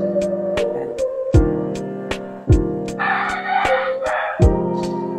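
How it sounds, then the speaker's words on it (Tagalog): Chickens crow in loud, drawn-out calls close by, alongside sharp, regular percussive strikes. "ang ingay ng mga manok"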